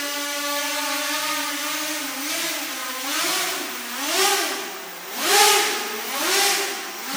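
Armattan M230 quadcopter drone flying over pavement, its small motors whining in a steady tone that rises and falls in repeated revving swells, moderately close and with no talk.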